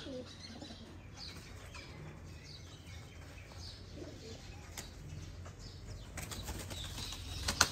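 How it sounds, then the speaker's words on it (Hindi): Pigeon wings flap in soft, intermittent flurries, with faint chirps and low cooing in a quiet background, rising to a sharper burst near the end. "ये दोस्तों बड़ा कबूतर"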